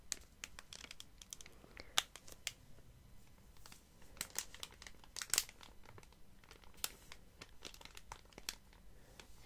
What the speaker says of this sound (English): delicate crinkling sounds with them